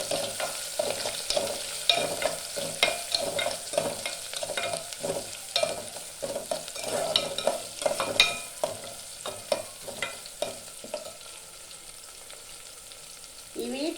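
Onions and green chillies fry in a pan for a tamarind-style broad bean and raw mango stew, a steady close sizzle broken by repeated scraping stirs, with no one talking.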